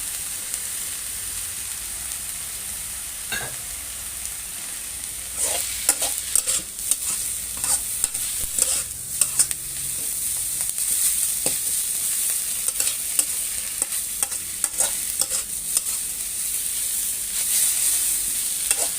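Pickled mustard greens and egg are stir-fried in a pan, with a constant loud sizzle and rapid, repeated scraping strokes of a spatula through most of the stretch, and no speech.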